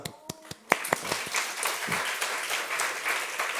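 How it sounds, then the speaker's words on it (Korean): A church congregation at a Korean-language worship service breaks into applause. A few separate claps come first, then the clapping swells into dense, sustained applause that fills the room. "하나님께 박수."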